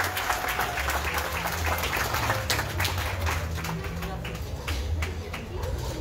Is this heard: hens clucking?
no